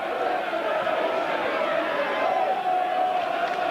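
Steady roar of a rugby league match crowd at Workington Town versus Wigan, a dense continuous wash of massed voices filling the stadium at an even, loud level throughout.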